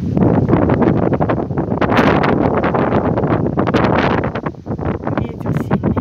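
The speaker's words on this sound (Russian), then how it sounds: "Ветер сильный." Strong wind roars and gusts continuously against the microphone in Austria, a loud rough rumble with no clear talk.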